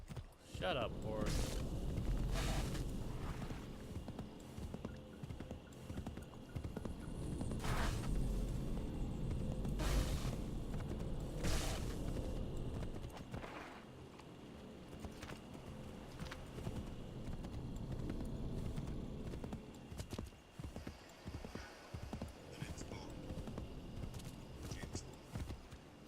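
Horse hooves clip-clopping in Assassin's Creed III Remastered, a steady walking rhythm under game music and ambience, with a voice talking over parts of it.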